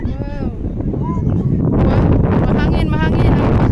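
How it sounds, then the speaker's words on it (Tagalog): Strong wind buffets the microphone in heavy continuous gusts on a hiking trail, MacLehose Trail Section 4 in Hong Kong, growing louder partway through, with faint whistling tones riding over the roar. "Ayan, maririnig nyo lakas ng hangin."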